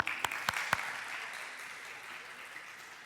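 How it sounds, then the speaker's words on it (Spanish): Applause from a congregation at a church service honoring mothers, opening with a few sharp claps and then settling into a steady, moderately loud wash of clapping that carries on through the whole stretch. "Eso, un aplauso."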